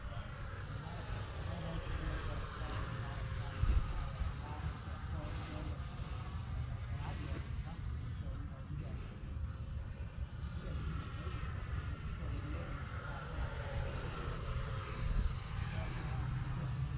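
An Arrows Marlin RC airplane flies with flaps down, giving a steady, fairly distant motor drone that holds unbroken under outdoor wind noise and occasional talk.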